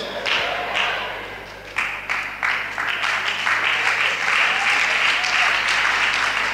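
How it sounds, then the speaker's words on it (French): Women in a church congregation applauding during a service, bursts of clapping that build into steady, fairly loud applause, with a few thuds and a brief voice in the mix. "c'est les femmes seulement qui applaudissent pour moi"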